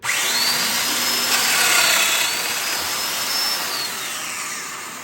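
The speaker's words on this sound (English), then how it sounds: "I'm going to turn this on and plunge in and cut a slot for the tabletop fastener to fit into." A Festool Domino joiner spins up and plunges into wooden board to cut a slot for a tabletop fastener, a loud, steady high-pitched motor whine with a rising then falling tone as the cutter bites, close up with no voices.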